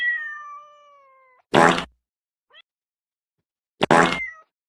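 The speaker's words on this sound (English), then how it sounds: "That's not really a good cat sound." Cat meow sound effects: a drawn-out tonal cry fades away, then two short, loud meows come separately with near silence between them.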